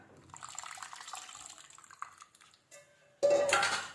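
Tamarind water pours and splashes into a simmering curry pot, a soft bubbling giving way to a louder, sustained gush of poured water near the end.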